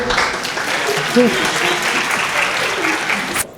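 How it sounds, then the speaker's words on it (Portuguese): Students in a classroom applaud in a sustained burst of clapping, fairly close, with voices murmuring underneath and a sharp knock near the end. "Por que só a sala de lá que aplaudiu?"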